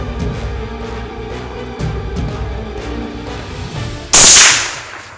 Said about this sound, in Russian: я принял решение произвести выстрел